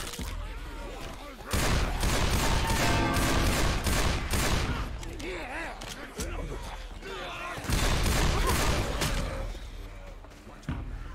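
Bursts of gunfire in a shooter video game, loud repeated volleys with sharp shots and booms across the clip, while players talk over the action.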